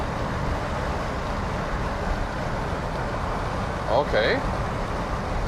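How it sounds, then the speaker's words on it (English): Steady broadband wind roar fills the cabin of a Porsche 911 Targa 4S (992) with its deflector raised at about 100 km/h, a constant rushing hiss with a brief spoken word partway through. "it's really loud in here. A lot of wind noise."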